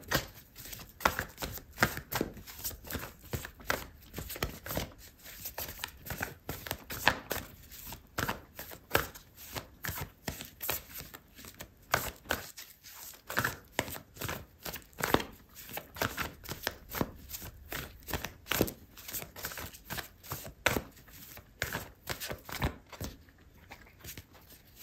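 A deck of oracle cards being shuffled by hand, a steady run of rapid, crisp riffling and patting clicks that continues close-up for the whole stretch, with no talking.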